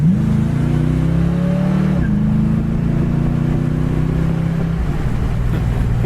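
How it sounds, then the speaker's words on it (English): A 1967 Ford Mustang convertible engine runs loud and close, its drone climbing under acceleration with a couple of distinct gear shifts where the pitch drops and builds again. "you kick it down, squeals the tires as it shifts"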